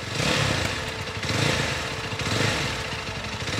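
Jawa 42 FJ motorcycle exhaust pulses with a throaty, rhythmic idle thump, swelling with about three mild revs close to the pipe, with no voices over it.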